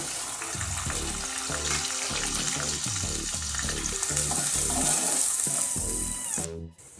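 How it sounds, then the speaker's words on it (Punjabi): Finely chopped onions hit hot oil in a tempering for toriya and palak saag, giving a loud, continuous sizzle with faint background music, ending in a sudden drop near the close; no one speaks. "ਅਸੀਂ ਬਰੀਕ ਕੱਟੇ ਹੋਏ ਪਿਆਜ਼ ਪਾ ਦੇਵਾਂਗੇ"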